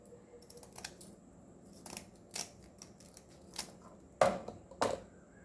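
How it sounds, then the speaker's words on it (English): Kitchen scissors snip through small anchovies while they are cleaned, a series of sharp, close cuts in uneven rhythm, growing louder toward the end. "you can take a scissor and cut this"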